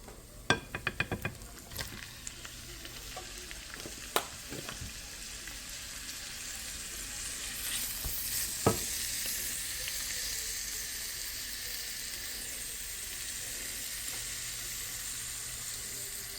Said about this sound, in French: Maintenant, j'ai ajouté la viande hachée.